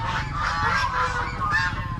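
Geese in a rural compound honking repeatedly in overlapping nasal calls, loud and close, with no talk.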